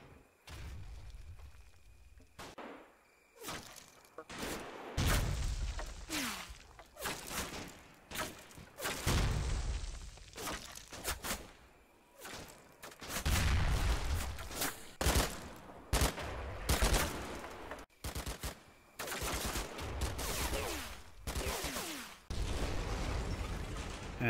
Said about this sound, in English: My company's mortars reposition and get to work.